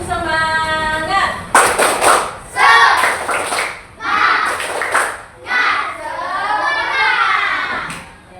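A classroom group claps together in short rhythmic bursts, mixed with children's voices chanting along, close and lively throughout.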